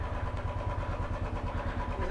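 A motorbike engine runs steadily nearby with a low, even, throbbing hum. No clear rise in revs stands out, and no one speaks over it.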